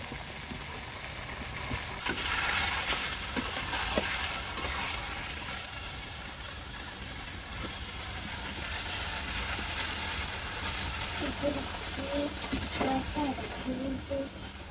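Parathas frying in oil, a steady crackling sizzle with occasional sharper pops and spatters, moderately close, continuing throughout.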